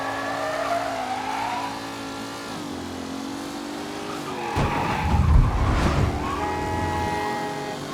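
A car in the video game Mafia III revs and accelerates with tires squealing through turns, then hits a heavy low rumble midway. The engine is loud and close, with its pitch rising and falling, and no one speaks.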